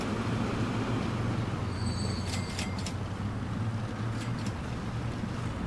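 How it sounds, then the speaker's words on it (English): A train pulls into a station in the Transport Fever 2 building game: a low, steady rumble throughout, with brief high metallic squeals partway through, and no talk. "Here comes the train."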